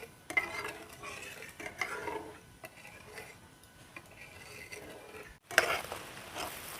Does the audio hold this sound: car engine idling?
no